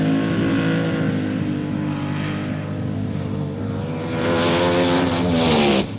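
A rear-engine dragster roars loudly and steadily at a drag strip during 1971 NHRA Winternationals racing, its engine note rising near the end as it passes close by.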